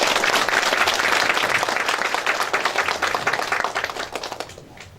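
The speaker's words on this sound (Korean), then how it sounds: "4분께 큰 박수 한번 부탁드립니다" A hall audience at a county New Year town-hall forum gives four council members a big round of applause: dense clapping that holds strong for a few seconds, then thins into scattered claps and fades.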